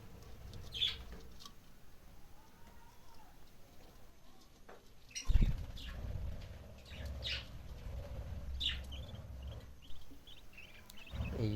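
Pet birds with their chicks in a cage give faint, scattered high chirps, with one sudden flapping thump midway against a quiet room background.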